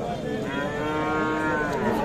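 A Burmese breed bull at a cattle market gives one long, loud, close moo that holds steady for about two seconds against a busy market background.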